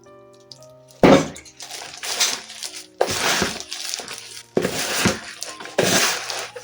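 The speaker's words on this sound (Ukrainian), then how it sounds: "Я йому ще трошки додавлю водички." Water poured into coco soil prepared for hoya cuttings: several separate bursts of splashing and trickling, close and fairly loud, each lasting about a second with short pauses between.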